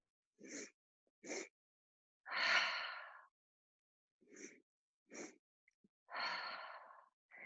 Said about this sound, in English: 2 sniffs on the kick forward, 1 exhale through the mouth on the way back